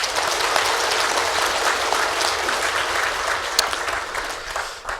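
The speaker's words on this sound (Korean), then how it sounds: "감사의 박수 한번 올립니다." A church congregation at a Sunday service claps in thanks, a broad sustained burst of many hands applauding together, steady and fairly loud, tapering slightly toward the end.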